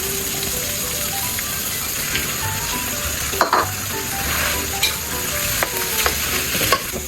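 Rice stir-fried in a hot pan for three-colour fried rice sizzles steadily up close, with a spatula scraping and clinking against the pan at irregular intervals.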